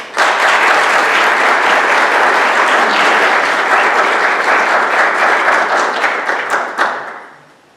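A large audience at a higher-education event gives a loud, sustained round of applause to welcome a council president, dense and close throughout before thinning and fading out at the end.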